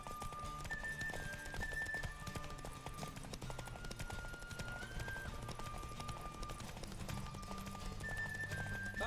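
Rapid galloping horse hoofbeats in The Witcher 3 pound steadily over a busy music backdrop, with a brief whinny-like tone, loud and continuous throughout.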